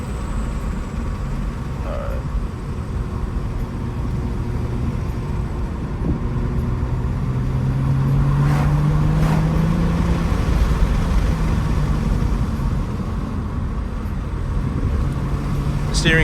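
An Acura car coasts along the road with a steady, low rolling rumble of tires and road noise, moderately loud and continuous, with a faint passing tone midway and no talking.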